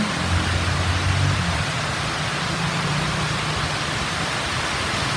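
Heavy rain roars in a constant, thick hiss without pause, loud and close, no voices.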